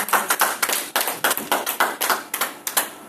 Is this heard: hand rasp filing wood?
no